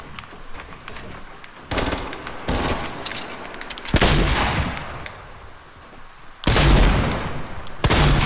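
Gunfire in a Fortnite match, several loud bursts of rapid shots in separate clusters over about eight seconds, with game background noise between volleys.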